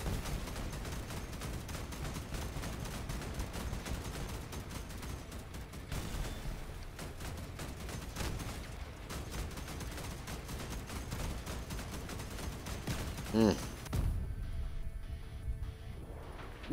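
Vehicles trading gunfire in the vehicular combat game Crossout, with dense, continuous bursts of shooting and impacts throughout, a heavy close blast near the end followed by quieter machine-like tones.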